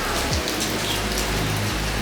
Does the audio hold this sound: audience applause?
no